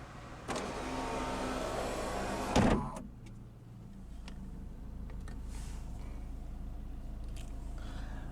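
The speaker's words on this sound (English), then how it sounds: "right here you have your power sunroof controls." Power sunroof on a 1997 Honda Accord running under its electric motor as a steady whir for about two seconds, ending in a clunk, followed by quiet cabin ambience.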